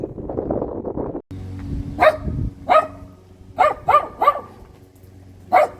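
A dog barks repeatedly, sharp single barks and a quick pair, spaced irregularly over a low background hum, fairly close, in Piacenza, Italy.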